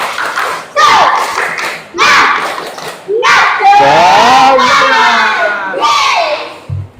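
A group at a teacher training session does a rhythmic spirit clap, with loud chanted shouts and voices over sharp clap bursts, close and energetic throughout.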